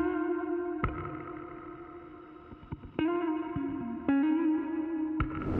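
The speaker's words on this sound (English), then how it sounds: "First, I pitched it down 500 semitones, time stretched it, and now it sounds like this." Guitar phrase pitched far down and time-stretched into a dark, droning, effected tone, with sustained low notes swelling and re-struck at a few points, heavy chorus, distortion and echo, playing alone without talk.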